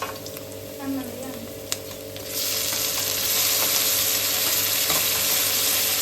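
Onions sizzling in a pan for momo stuffing, a soft fry at first that swells into a loud steady sizzle partway through, close up.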